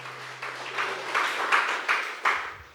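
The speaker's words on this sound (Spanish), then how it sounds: "Fuerte aplauso." Applause breaks out at a religious gathering during a sermon. Rhythmic rounds of clapping swell in repeated pulses, moderately loud, after a low hum fades out at the start.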